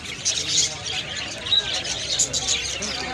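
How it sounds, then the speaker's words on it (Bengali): Birds at a pigeon market give scattered chirps and soft calls over a busy outdoor bustle, with people talking nearby. "কবুতরের হাট এখানে।"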